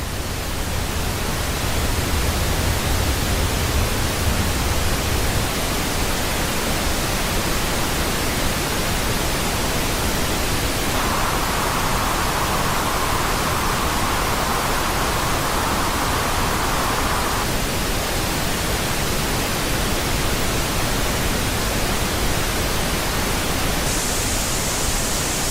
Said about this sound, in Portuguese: Então, ruído rosa com mais 6 dB para a gente identificar essas 3 frequências aí.